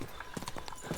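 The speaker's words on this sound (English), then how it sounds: "That looks like a bloody expensive horse." Horse hooves clip-clopping in the medieval video game Kingdom Come: Deliverance II, a quick run of several soft, close hoof strikes over about a second, fairly faint.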